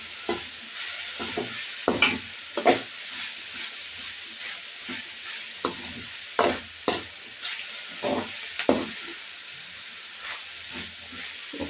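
Vegetables sautéing in a pan for veg noodles, tomato just added, with a steady sizzle and hiss broken by repeated stirring and scraping bursts, close and alone.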